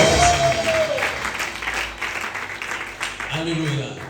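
A French-speaking church congregation claps and cheers for Jesus in a loud, sustained burst of applause, with a preacher's voice rising over the crowd at the start and again near the end.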